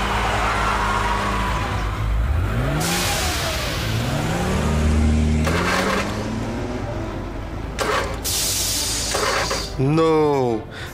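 A cartoon car engine revving during a race between animated vehicles, a continuous loud rising and falling engine whine under excited character voices, ending in a burst of higher revving.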